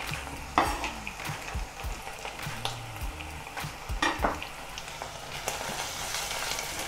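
Crushed garlic and ginger sizzle in hot oil for an Ethiopian dried-meat stew, with a steady frying hiss broken by repeated clacks and scrapes of a spoon stirring the pan.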